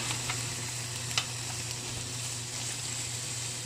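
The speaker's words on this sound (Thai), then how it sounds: "ผัดกับน้ำมัน" Marinated pork stir-frying in hot oil in a home kitchen gives a steady, even sizzle that runs unbroken throughout, with a low hum beneath it and no talking.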